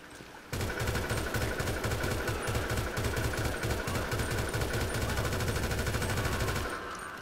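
A long sustained burst of rapid automatic gunfire in GTA 5 Online, loud and close, with evenly spaced shots hammering continuously for about six seconds before cutting off.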